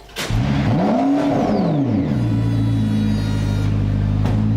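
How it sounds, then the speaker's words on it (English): A McLaren P1 hybrid supercar's engine revs up sharply, swoops back down and then settles into a loud, steady, close-up drone with no voices over it. "the P1 is still making real engine sounds car guys live for"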